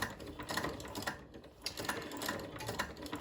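An old treadle sewing machine runs slowly under foot power, giving a steady, fairly loud mechanical clatter of ticking and whirring parts at close range, with no voices.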